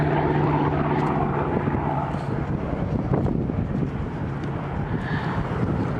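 A Hawk 75 fighter aircraft flying at the Duxford D-Day airshow, a steady loud engine drone that stays continuous throughout with some wind noise.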